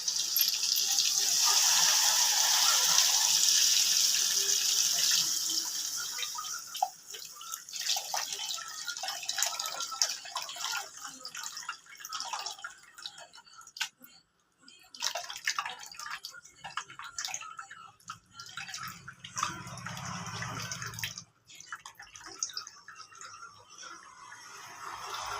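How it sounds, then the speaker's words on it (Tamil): Tamarind extract is poured into a home-made kanakatha fish curry simmering with drumstick and brinjal, giving a steady liquid splash and hiss that fades into softer bubbling and faint clinks. "இப்போ நம்ம புளிக்கரைசலை சேர்த்துக்குவோம்."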